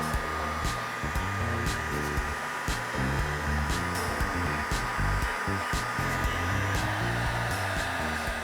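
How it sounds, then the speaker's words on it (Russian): A hair dryer heating decorative wall plaster to make it crack blows continuously with a steady whooshing hum, its pitch wavering slightly as it is moved around, close and fairly loud. "Далее берем фен и прогреваем крупные островки,"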